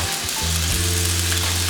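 Steady, continuous sizzling of olive oil in a hot pan, close up, with a constant crackling hiss and a low hum underneath.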